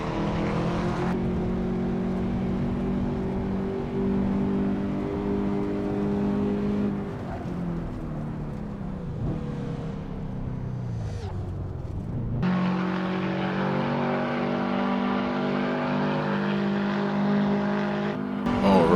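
A Subaru WRX STI in the racing game Assetto Corsa drives at high speed, its engine holding a loud, steady drone that dips, revs back up and shifts pitch through gear changes, continuous for about nineteen seconds.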